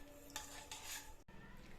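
A spoon scrapes and clinks against the metal of a pressure cooker while rice, water and salt are stirred, with a few soft, close scraping strokes followed by a brief quiet gap.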